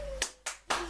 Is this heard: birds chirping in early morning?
no